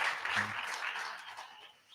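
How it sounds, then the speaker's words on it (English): Audience applause at a festival talk: a short burst of clapping from a crowd, fairly faint and fading toward the end. "Give him a big round of applause."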